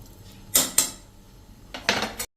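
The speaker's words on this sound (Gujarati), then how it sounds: "અત્યારે હું ખાવાનો સોડા નાખી દઉં છું 1 ચમચી જેવો" A metal spoon clinks and scrapes against a burnt pressure cooker while baking soda is added, with two sharp bursts of clatter separated by a short quiet gap.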